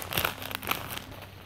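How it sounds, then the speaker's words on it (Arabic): A plastic bag being opened for a takeaway chicken shawarma fatteh, a few quick crinkling rustles close by, no talking. "نفتح الكيس"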